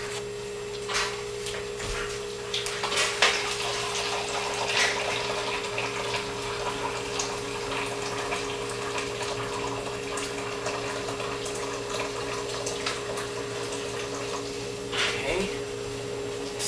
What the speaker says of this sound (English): I'm going to add another 2 cups of water.